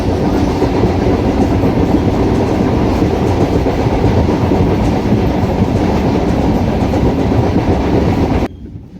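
A passenger train between Masagram and Bankura runs on rails with a loud, steady rumble and rhythmic clatter heard from on board, then drops away abruptly just before the end.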